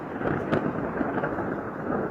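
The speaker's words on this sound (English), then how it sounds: "And what's scary is lightning." Thunder rumbles through a strong Thai storm with heavy rain and wind, a steady loud roar broken by one sharp crack early on, with no voices.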